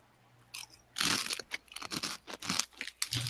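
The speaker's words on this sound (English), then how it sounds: "Brandon, we can hear you chewing loudly" Someone chews crunchy food loudly and close up during a Dungeons & Dragons game session, with a rapid series of crisp crunches and bites that lasts a few seconds and has no talk over it.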